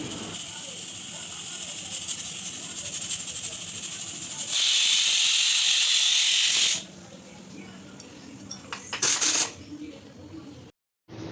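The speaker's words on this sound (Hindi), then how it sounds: "उपमा बना रही हूँ, जो मैं कुकर में बनाती हूँ। तो देखिए सीटी भी लग जा रही है।" A pressure cooker whistles loudly in a home kitchen while upma cooks inside, a sustained steam hiss holding for a couple of seconds, followed by shorter bursts of hissing and background kitchen noise.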